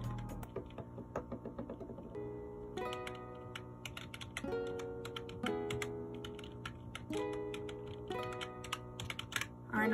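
Typing on an Npk10 computer keyboard, a fairly quiet model, makes quick clusters of soft key clicks close up, with tonal music playing steadily underneath.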